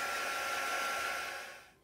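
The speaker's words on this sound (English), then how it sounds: "So I will dry it with my heat gun for a bit." A heat gun blows steadily on paper for a craft junk journal, a close, even whooshing hiss with a faint whine that fades out as it switches off.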